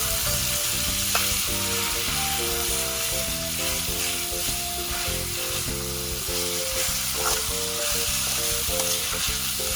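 Minced pork fries with red chili paste in a hot pan, giving a loud, continuous close-up sizzle broken by steady rhythmic stirring and scraping, with no talking.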